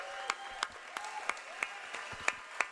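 Scattered applause greets San Diego's own Joe Musgrove on a live Padres–Dodgers NLDS preview show: fairly quiet, with distinct claps landing in an even, steady rhythm about three times a second.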